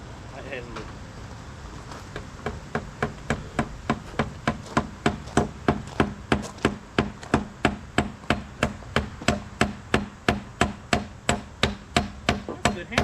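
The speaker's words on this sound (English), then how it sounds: "That's a good hammer." Repeated hammer blows drive nails while a wooden backyard deck is framed, a steady run of sharp, close strikes at roughly two per second that speed up as the work goes on, with faint voices in the background.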